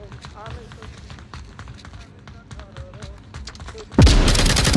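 Grenade blasts and gunfire in the VR shooter Onward during a competitive scrimmage match, with sharp shots scattered under steady commentary talk and a loud burst of explosion near the end.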